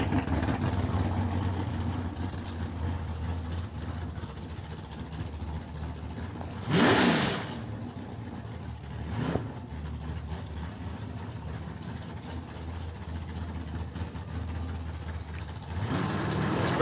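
Nitro funny car at a drag strip doing a tyre-heating skid: a steady distant engine drone broken by a sharp, roaring burst of revs, a second shorter surge, then more rising engine noise at the end.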